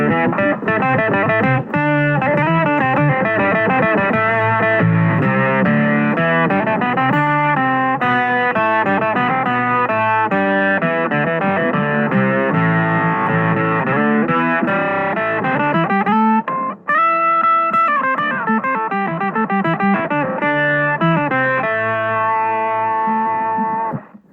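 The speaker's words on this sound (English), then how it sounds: "And then of course I can add the octaver there" Electric guitar played through an octaver effect with distortion, sustained chords and notes ringing loud and continuous with a slightly digital character, a brief dip near the end, no voices.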